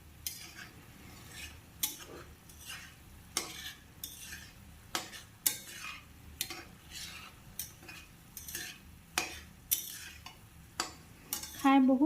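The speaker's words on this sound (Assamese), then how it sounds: "এনেকৈ মছলাখিনিৰ লগত মই 3-4 মিনিটমান ভাজি ল'ম।" A spice mix with elephant apple fries in a pan while a utensil scrapes and stirs in repeated short strokes, soft sizzling underneath, fairly quiet and with no talk.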